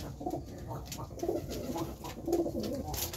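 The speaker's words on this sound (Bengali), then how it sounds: "একটা পায়রা হয়তো ডিম দিয়েছে, ওই বসে আছে খোপের মধ্যে দেখা যাচ্ছে।" White local pigeons cooing softly in their nest boxes, several low repeated coos in a gentle rhythm, fairly close with faint background noise.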